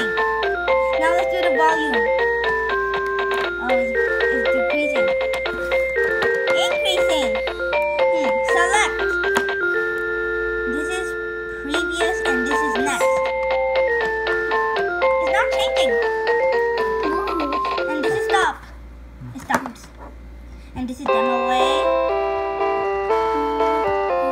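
A bright children's electronic keyboard plays its demo tune continuously in a bouncy, music-box style, pausing briefly near the end before resuming.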